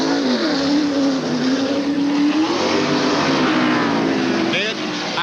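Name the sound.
NASCAR stock car engine revving on track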